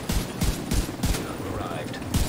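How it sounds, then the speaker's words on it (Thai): Semi-automatic gunfire in a shooter video game, five single shots spaced evenly about a third of a second apart, each a sharp, punchy report with a brief tail, close and fairly loud. "แต่นี่มันแบบกดแล้วมันออกทีละนัดอ่ะ"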